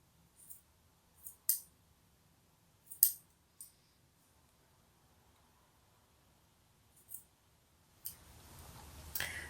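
Scissors cutting off a knitted neckband, heard as a series of sharp, close snips spaced irregularly over several seconds, followed by a soft rustle of fabric.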